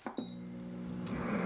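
Deluxe Cooking Blender making Alfredo sauce, its control panel giving short electronic tones as start is pressed, a clipped beep followed by a sustained harmonic tone, then a click and the motor hum building underneath.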